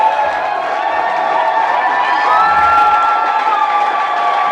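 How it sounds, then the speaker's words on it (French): A Sunday church congregation erupts in loud cheering and whooping to acclaim the Lord, a continuous crowd roar of many voices with rising shouts, sustained and close. "est-ce qu'on peut acclamer le Seigneur?"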